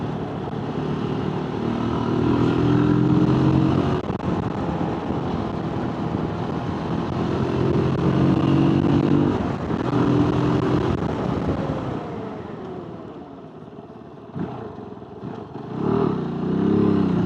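A KOVE 450 Rally adventure motorcycle rides twisty roads with a steady, loud engine drone that rises and falls with throttle through the bends, easing off and fading near the end.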